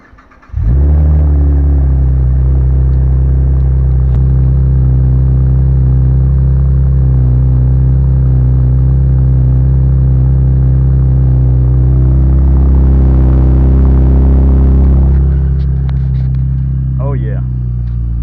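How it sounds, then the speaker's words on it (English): V6 car engine turning over in a cold start, firing up and settling into a loud, steady idle with deep rumbling tones, heard close and on its own. "let's get that cold start action going on here"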